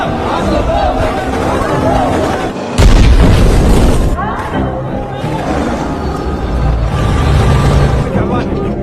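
Explosions and gunfire erupt as Iraqi soldiers attack important buildings in a Kuwaiti city, a loud dense barrage with a heavy boom near three seconds, crowd shouting and battle cries mixed throughout.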